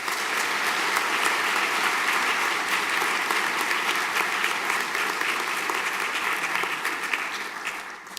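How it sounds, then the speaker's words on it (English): A school senior prizegiving audience breaks into sustained, loud applause, many hands clapping together and fading slightly toward the end. "If we could have a round of applause,"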